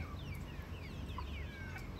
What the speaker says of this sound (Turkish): Bunlar galiba yumurta tavuğu değil de yemeklik tavuk olabilir.